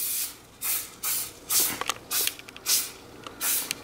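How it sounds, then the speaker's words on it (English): Canola cooking spray hisses onto a baking sheet in about seven short, even bursts with brief pauses between them, close by and without any talking. "So I'm gonna grease this with some canola cooking spray"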